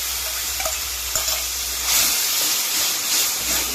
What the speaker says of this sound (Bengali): দইটা কিন্তু মশলা সঙ্গে সুন্দর করে ভেজে নিতে হবে একদম কষে নিতে হবে